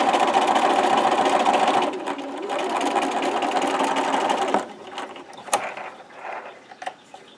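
A sewing machine runs a small finishing seam on the inside of a fabric pocket, stitching in a loud steady whir for about four and a half seconds, then stopping and giving way to scattered clicks and handling noises.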